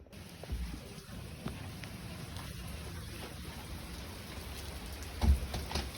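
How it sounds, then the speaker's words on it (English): Steady rain falls outdoors on potted plants set out to be watered, a continuous soft hiss of drops with a few louder splats, heard alone without talk. "It's like really raining all"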